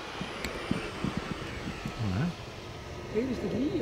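A distant jet aircraft at an airfield produces a steady, broadband roar with some engine whine, heard faintly beneath close talking voices.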